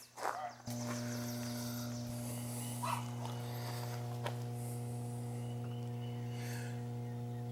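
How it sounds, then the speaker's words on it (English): An electrical transformer by a winterized summer home gives off a steady, loud mains hum. A few faint knocks and thumps sound over the constant drone. "Some kind of electrical, must be some kind of transformer."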